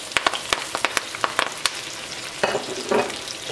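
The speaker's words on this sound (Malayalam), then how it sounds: "ഈ ചൂടായിട്ടിരിക്കുന്ന ഓയിലിലേക്ക് സവോളയും പച്ചമുളകും ഇഞ്ചിയും വെളുത്തുള്ളിയും കറിവേപ്പിലയും ചേർക്കാം" Onions, green chillies, ginger, garlic and curry leaves dropped into hot oil, crackling and sizzling up close with sharp spattering pops and stirring scrapes.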